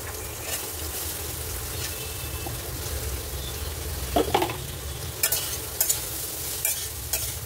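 Nutrela soya chunks are stirred and fried in a pan: a quiet, continuous sizzle with intermittent scraping strokes of the spoon, heard close and alone.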